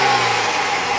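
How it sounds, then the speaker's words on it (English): BMW X3 3-liter turbo six-cylinder engine running close and loud in a brief steady rev with a constant droning tone. "have Trish give it a little bit of revving."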